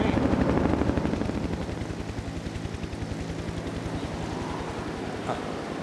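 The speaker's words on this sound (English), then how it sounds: "Sounds like a helicopter to me." A helicopter passes overhead in the wilderness, its rotor chopping in a steady, loud pulse over wind noise, strongest at first and then holding on.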